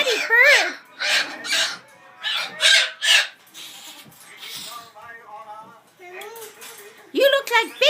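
A pet bird makes loud squawks and chattering calls in bursts while someone talks to it, in a snowy cold-weather setting.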